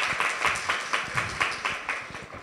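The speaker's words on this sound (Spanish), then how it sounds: "un fuerte aplauso, por favor" Steady applause from a seminar audience in a panel room, Salón 401, heard as a moderately loud, rhythmic patter of many hands with no talking over it.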